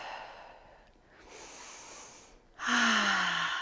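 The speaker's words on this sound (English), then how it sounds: "Breathing here, nice and strong." Strong nasal breaths during a yoga warrior one pose, a few audible inhales and exhales followed by a louder, forceful breath close to the mic, with no talking.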